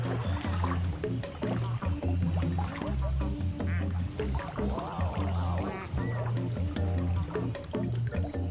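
A plastic duck in Placid Plastic Duck Simulator making an odd, warbling quack sound effect, repeated calls layered over steady game music, close and clear.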